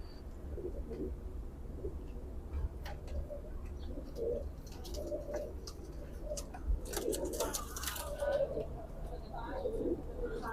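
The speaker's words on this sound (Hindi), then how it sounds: "बहुत अच्छा कबूतर है" Pigeons cooing in soft, repeated low calls amid a flock, with faint flutters and a voice speaking nearby.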